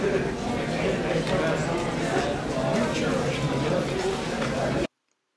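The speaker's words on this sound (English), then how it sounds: "Listen to all the chatter at a restaurant." Diners fill a busy restaurant with overlapping conversation, a steady babble of many voices with clinks and movement, continuous until it cuts off abruptly near the end.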